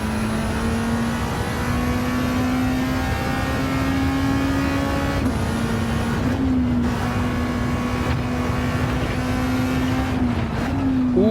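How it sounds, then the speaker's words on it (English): A car engine in Gran Turismo 7 drones steadily at high revs, pitch rising and dipping with gear changes and brief lifts of the throttle, loud and close throughout. "Oh, but this car sounds so good."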